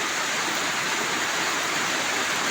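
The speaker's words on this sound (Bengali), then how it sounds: "কি সুন্দর বৃষ্টি পড়তেছে, রহমতের বৃষ্টি।" Steady, dense rain pours down without pause, a loud, continuous hiss filling the air with no voices.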